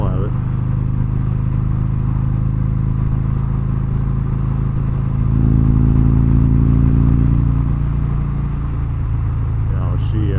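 A Harley-Davidson Road Glide motorcycle rumbles steadily underneath as it is ridden, a deep continuous engine drone that swells midway, with a rider talking over it throughout.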